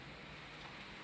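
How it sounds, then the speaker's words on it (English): Rain falls on a quiet street in the Dominican Republic, a faint, even, distant hiss that lasts the whole moment with no voices. "Oh, that's rain."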